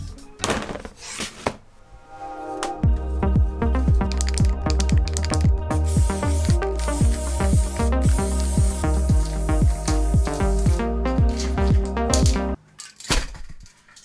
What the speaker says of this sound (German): Hier diese Kanten sprühe ich noch grau, dass es von der Seite nicht so holzig aussieht.